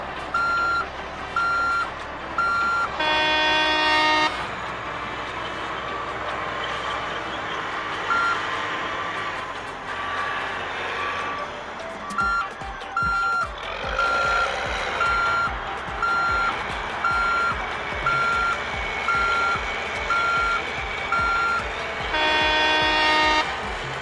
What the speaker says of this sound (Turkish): Buldozer yolu düzeltiyor.